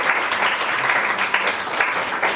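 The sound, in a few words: audience clapping for Rachel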